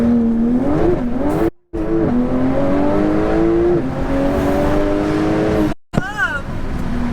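An 1100 bhp Porsche 911 Turbo S launches hard, its engine note climbing through rising revs with brief cuts at gear changes, loud and close from inside the cabin, with voices reacting briefly.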